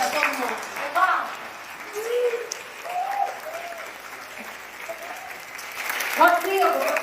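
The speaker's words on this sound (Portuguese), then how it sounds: "Uma salva de palmas para todo mundo." An audience applauds steadily, a continuous wash of clapping that runs throughout while a voice speaks over it.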